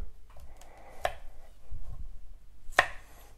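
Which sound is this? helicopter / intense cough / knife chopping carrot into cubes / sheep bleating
knife chopping carrot into cubes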